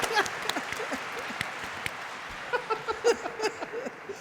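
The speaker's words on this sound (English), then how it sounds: "I want everybody to give Desmond a round of applause for being super effective" Scattered, uneven clapping from a small group at a live tabletop role-playing game event, individual claps standing out sharply with gaps between them, growing a bit livelier toward the end.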